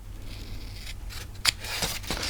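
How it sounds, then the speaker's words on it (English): Scissors snip through paper in a few quick, close cuts, with soft rustling between them and no talking. "scissors"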